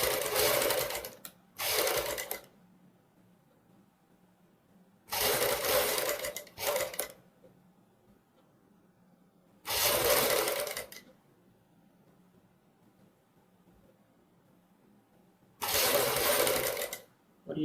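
Sewing machine stitching piping along a boat neck blouse neckline, close and loud in several separate bursts of a few seconds each, with quiet gaps between runs.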